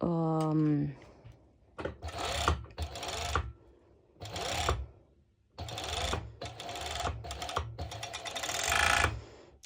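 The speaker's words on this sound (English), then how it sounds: "I will be serging this bit, because obviously it's a much safer stitch" A serger overlock machine stitches a seam on a mesh sportswear top, running in several rapid, loud whirring bursts separated by short pauses, with some speech at the start.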